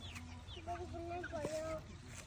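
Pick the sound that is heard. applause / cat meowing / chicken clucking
chicken clucking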